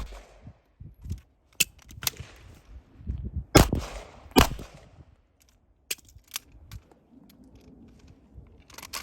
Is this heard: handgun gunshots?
yes